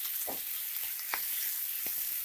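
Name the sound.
ginger garlic paste frying in a pan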